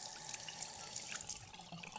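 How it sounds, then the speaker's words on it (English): A bathroom sink tap runs water to rinse a shaving razor, a faint, steady hiss of flowing water heard alone. "I just run it under my sink,"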